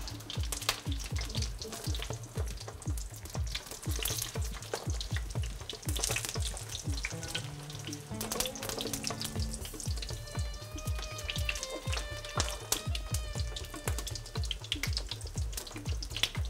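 Eggplant slices fry in hot oil with a steady, close sizzle and dense popping crackle throughout, and no voice over it.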